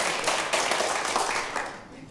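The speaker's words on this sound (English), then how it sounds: "And if you want to see Fraz's story continue, please applaud now" Audience applause rises in answer to a call to clap for one contestant's story continuing, a dense, steady patter of many hands throughout, fairly loud and close, fading slightly at the end.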